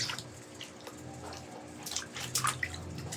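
Water splashing and dripping as a small child bathes in a plastic basin at home, with irregular light splashes and trickles, fairly close, with a low steady background hum.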